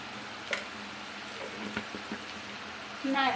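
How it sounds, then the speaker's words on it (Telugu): Boiled potatoes crisp-frying in a pan with a spoonful of chili powder, giving a steady close sizzle with a few stirring scrapes and a louder burst of crackle at the end. "ఆలు ఫ్రై అయిపోయిందండి"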